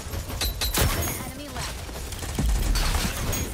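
Gunfire from a Rogue Company match, a burst of sharp shots crackling early on with scattered further reports, mixed with game effects and a player talking over the action.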